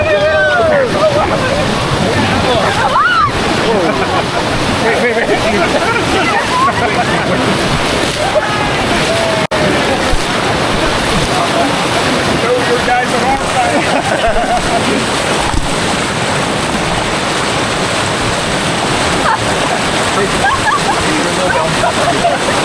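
Whitewater rafting through rapids on the river at Llangollen, Wales: constant loud rushing and splashing water with paddle strokes, while voices call out and talk over the roar throughout.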